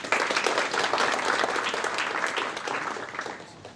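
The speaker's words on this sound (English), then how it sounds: "A round of applause for Shant." Applause from an audience welcoming the next speaker at a talk on business financing, a dense, steady patter of many hands that sets in at once and fades slightly toward the end.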